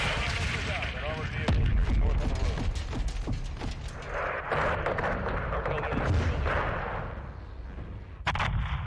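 A rocket explosion in Call of Duty: Modern Warfare 2 (2022), heard as loud booming bursts and rumbling gunfire over dense game noise, with a person talking over it.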